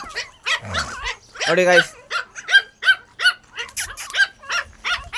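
Three Shih Tzu puppies yip in short, repeated high barks, fairly close, while someone speaks over them.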